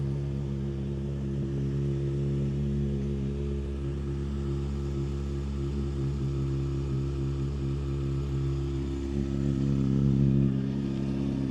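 A Honda CBR600RR sport motorcycle with 23,000 km on it idles steadily nearby, its engine a deep, even rumble that holds for the whole stretch with a slight swell near the end.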